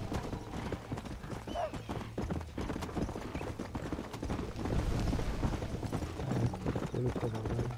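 Horse hooves clip-clop in the Western game Red Dead Redemption during horse taming, with a steady trotting rhythm, an occasional whinny and talk over the top.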